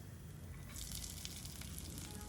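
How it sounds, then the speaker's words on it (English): Minced garlic and sliced onions hit hot oil in a pan for a keto broccoli and cauliflower sauté, bursting into a soft, close hiss that swells after a moment of quiet and continues faintly. "when the oil is hot enough we will add the minced garlic as well as the sliced onions."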